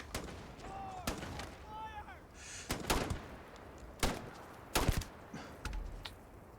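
Gunfire in a Starfield shootout cracks in sharp, separated shots spaced about a second apart, with sci-fi weapon chirps early on and a voice speaking between shots.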